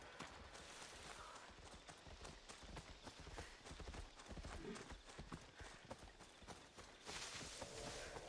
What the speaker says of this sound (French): Tu fais vraiment le bruit d'un cheval hein, quand il marche.